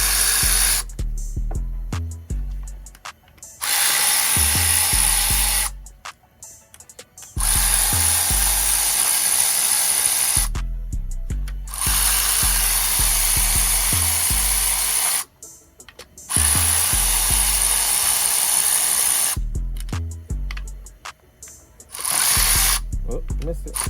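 Power impact gun removing Loctite-secured bolts while installing a CD009-to-JZ adapter kit, firing in repeated loud bursts of several seconds each, separated by brief pauses with someone talking.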